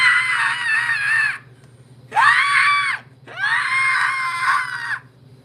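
A voice imitates a Jamie Lee Curtis-style horror movie scream: three long, high, sustained shrieks separated by brief pauses, loud and close over a faint low hum.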